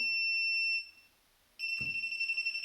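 Electronic beeps from a Classic Army X9 Nemesis airsoft SMG: two sustained high pitched tones separated by a short pause, close and clear, with a faint click before the second.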